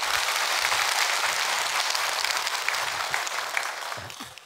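Church congregation applauding during a Sunday worship service, a dense, steady clapping that fills the room and fades slightly toward the end, with no voices over it.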